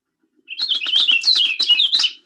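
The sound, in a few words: orchard oriole song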